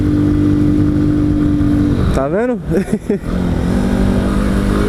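A motorcycle engine with its intake hose removed, idling with a low rough tone, then briefly blipping to a rising and falling rev before settling back to idle, with a short spoken remark over it.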